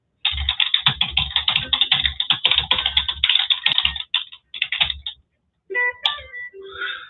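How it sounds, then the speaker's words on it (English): Fast, dense typing on a computer keyboard, close and loud, with rapid key clicks for about five seconds followed by a short pause and a few scattered keystrokes. "So let me just type something there now."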